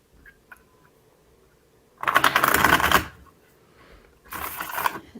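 Two bursts of cards being shuffled, a longer riffle followed by a shorter one after a pause, close and crisp against a quiet background.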